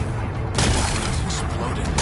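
Rocks are blasted apart in Horizon Forbidden West, a loud rumbling burst that hits sharply after a short moment and rolls on as a thick wash of debris noise.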